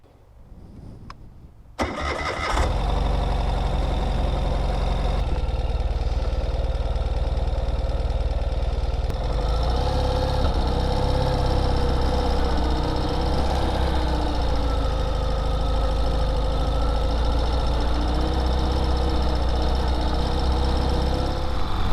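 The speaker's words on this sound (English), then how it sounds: "ride a little bit with this beautiful Ural motorcycle" A Ural sidecar motorcycle engine cranks and fires up after a brief faint start, then settles into a loud, steady running rumble close by that holds for about twenty seconds on an autumn day.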